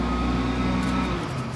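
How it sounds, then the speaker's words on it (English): A garbage truck works its way down a residential back lane collecting cans, its low engine rumble loud and steady nearby, with a faint higher whine rising toward the end and no voices over it. "That's our garbage truck."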